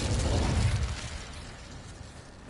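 A fiery Incendio spell cast in Hogwarts Legacy bursts out with a loud, close whoosh and rumbling blast that quickly fades into a softer crackling tail.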